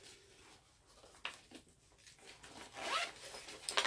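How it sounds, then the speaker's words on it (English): A clothing zipper is pulled shut in a few short rasping strokes, close and fairly quiet, building to a longer faster zip at the end, with no voices. "Zip it closed."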